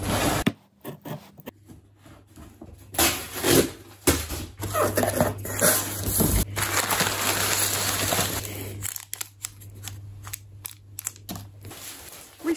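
A parcel wrapped in recycled paper packaging, holding a cigar box guitar, being torn and opened up close, with bursts of crinkling, rustling and tearing paper, uneven handling noises and brief pauses between bursts.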